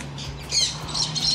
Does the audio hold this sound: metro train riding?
no